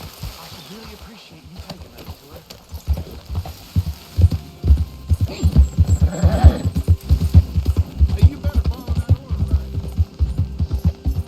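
Hooves clip-clop in a steady rhythm with a horse whinnying partway through in the video game Red Dead Redemption 2, while a person talks in German over the game sounds.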